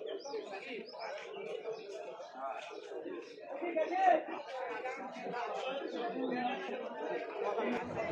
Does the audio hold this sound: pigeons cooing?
yes